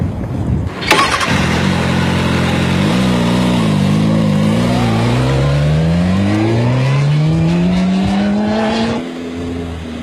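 Motorcycle fitted with a tank-mounted pointer for a counter-steering demonstration starts up and rides off, its engine note climbing steadily through the gears, loud and close with no talking.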